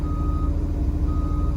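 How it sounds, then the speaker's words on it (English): The travel alarm on a KSF 940 ballast regulator that has travel problems gives a steady, loud electronic beep tone over a low engine rumble, with no voices. "That little beep."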